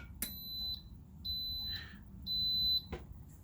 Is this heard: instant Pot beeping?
yes